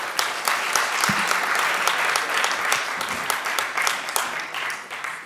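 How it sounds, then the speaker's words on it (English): Audience applause for a diamond industry panelist at an industry panel session, sustained dense clapping from a crowd with sharp individual claps standing out. "Let's have a huge round of applause for Paul."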